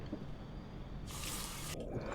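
Water pours steadily from a hotel sink tap while someone washes their face, a close, continuous hiss that swells brighter for a moment and then drops back to a softer trickle.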